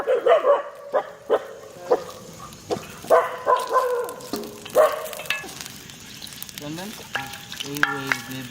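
A dog barks repeatedly in short, sharp bursts near the cooking spot at a village outdoor seekh kebab cook-up at night, with faint frying sizzle and other background sounds between the barks.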